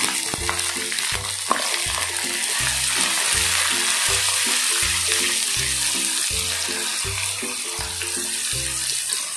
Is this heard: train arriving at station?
no